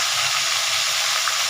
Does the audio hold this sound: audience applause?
no